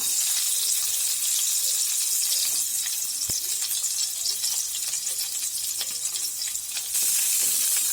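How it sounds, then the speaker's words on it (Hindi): Onions frying in oil in a pan over a slow flame, a steady close hiss and sizzle throughout with faint clinks, no talk. "तेल मैं 2टा प्याज काटी थी से प्याज के एबे फ्राई करना"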